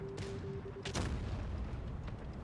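A loud tank cannon shot from an ST-62 Version 2 Soviet medium tank in WoT Blitz, with a sharp blast near the one-second mark over dense rumbling battle noise, preceded by fainter shots and a steady interface tone.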